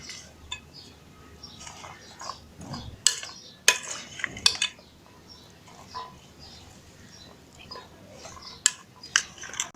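Chaat mixture of tamarind juice, lemon juice and spices being stirred in a bowl, with soft scraping and intermittent light clinks of a spoon against the dish, close and fairly quiet, with no talking.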